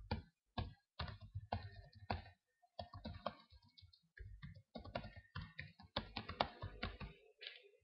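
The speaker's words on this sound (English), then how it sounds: "you can type in as much or as little as you like" Fingers type on a computer keyboard in quick, uneven bursts of light clicks, close and quiet, with short pauses between runs of keystrokes and no talking.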